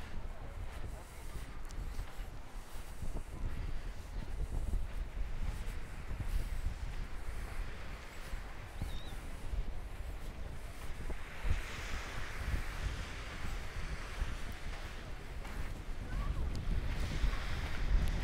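Steady wind and rolling surf on the beach at Matala, Crete, a continuous broad rush with wind buffeting the microphone throughout and no clear voices.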